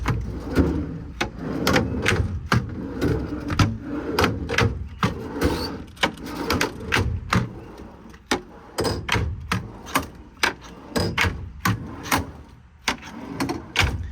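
Metal tool drawers on a work truck slide and knock repeatedly, a long series of sharp clacks and thumps in irregular rhythm, close by.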